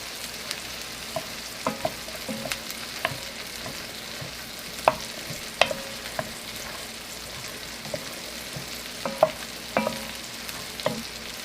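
Food sizzles steadily in a pan while a utensil stirs and scrapes it in scattered knocks and clinks, close and moderately quiet, with no talking.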